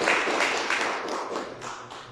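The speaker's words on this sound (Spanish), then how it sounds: "Un aplauso" A church congregation claps during a worship service, a dense, steady patter of many hands at mid distance that continues throughout without any talking over it.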